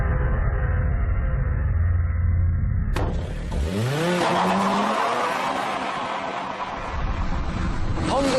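A Honda Civic Type R is driven hard on a straight test track, its engine note rising through a sharp gear change and climbing revs, loud and close with tire noise throughout.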